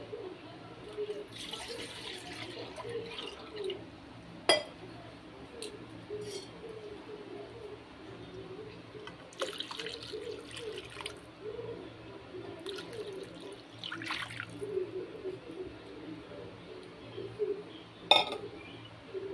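Water poured into a cooking pot in a home kitchen, a soft intermittent trickle and splash with faint clinks of metal, heard from close by with no talk.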